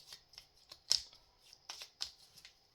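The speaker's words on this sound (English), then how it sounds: "These Egyptology note tokens, let's give those a little shuffle." Cardboard Egyptology note tokens for a tabletop board game are shuffled by hand, giving a quick series of crisp riffling, slapping bursts close up with no talking.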